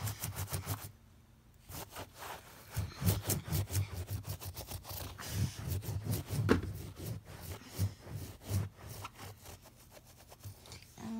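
Glue being rubbed and scrubbed off a carpet, with repeated rough back-and-forth scraping strokes in quick irregular bursts, close and moderately loud after a brief pause near the start.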